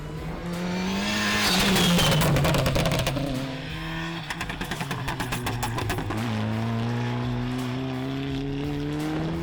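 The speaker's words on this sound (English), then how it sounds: "Those were no standard pops and gurgles." A revving Volkswagen MK8 Golf GTI TCR race car engine crackles with rapid anti-lag pops and gurgles, a loud burst of bangs then a rising, burbling engine note close by.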